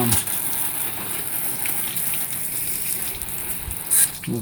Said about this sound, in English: just hose down